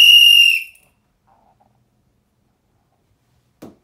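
A person whistles one loud, sharp, bright blast that cuts off after about half a second, followed by near silence and a brief low thump.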